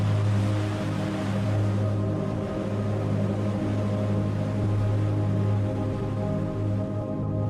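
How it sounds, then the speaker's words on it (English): Sea waves lapping against the shore of a Caribbean bay, a steady continuous wash of surf with a low rumble, fairly loud and even throughout with no voices. "The sound of waves lapping against the shore, mixed with the rustling of dry leaves in the wind"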